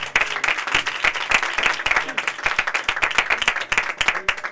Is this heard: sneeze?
no